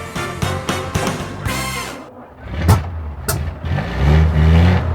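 A classic eight-cylinder car, Clive Cussler's Bentley or Duesenberg, pulls away with a loud, close rumble that dips, then rises as the engine revs, with short sharp mechanical noises partway through.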